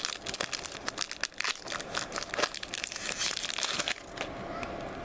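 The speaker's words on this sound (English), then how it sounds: "I'm going to be opening up the Evolutions Booster Pack." A Pokémon Evolutions booster pack crinkles and tears open with close, busy bursts of foil crackling that continue for several seconds, with no talking.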